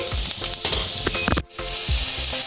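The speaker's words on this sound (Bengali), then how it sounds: "ক্যাপসিকাম কুচি দিয়ে দিলাম, কাঁচা লঙ্কা কুচি দিয়ে দিলাম। এটা হালকা ভেজে নেব।" Chopped capsicum and green chili sizzle loudly in a hot pan with oil, a steady close frying hiss broken by short scraping stirs and one brief pause.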